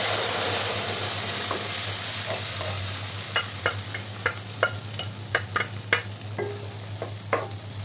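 Cooked dal poured into a sizzling tempering for Thrissur-style parippu curry, a steady frying hiss with a low hum beneath and a series of sharp spoon scrapes and clinks as it is stirred.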